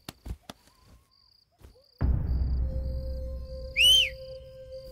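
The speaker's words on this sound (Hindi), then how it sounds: "अरे कौन सीटी बजा रहा है ये?" A single sharp, shrill whistle is blown just before the end of a Hindi-dubbed action film scene. It rings out loud and close over a low rumbling background and a faint steady tone.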